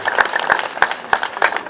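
Steady rhythmic hand-clapping from an audience at an ADEPR Nasho Parish church choir gathering, about three claps per second, with voices faintly underneath.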